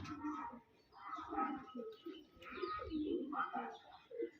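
A pigeon coos repeatedly nearby, a series of low throaty rolling calls with short pauses, some faint chirps in the background.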